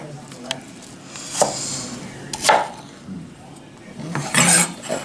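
Garlic is mashed on a kitchen board in a few sharp, separate thumps and crushes spread across the moment, close and fairly loud, with quiet kitchen background between them.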